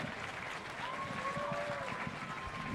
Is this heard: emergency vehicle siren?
no